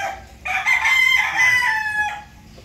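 A Tornado bullstag gamecock with a blemished, crooked leg gives one loud, close crow lasting about a second and a half, alone over faint background noise.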